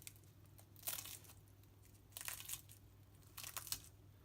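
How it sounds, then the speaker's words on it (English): Three separate bursts of crisp crunching from biting into Turkish fried cigarette pastry rolls (sigara böreği), over a quiet low hum. "I'd like to show you how crunchy they are."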